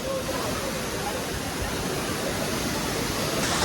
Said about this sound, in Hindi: ये देखो मैं आपको पास से दिखाता हूँ कैंपटी वाटरफॉल